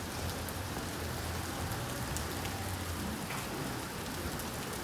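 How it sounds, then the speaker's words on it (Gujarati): Heavy rain pours down steadily and loudly on a morning after a full night of downpour, a dense unbroken hiss with no voices or pauses. "હજી ફૂલ વરસાદ આવી રહ્યો છે."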